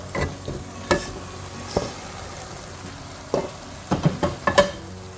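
Chong and minced meat fry in oil, with a soft sizzle under repeated sharp scrapes and clacks of a spoon stirring the pan, coming in irregular bursts close up.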